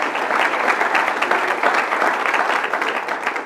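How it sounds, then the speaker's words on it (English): Sustained applause from an audience at a city State of the City address, steady dense clapping throughout with no pauses. "Please give these groups a round of applause."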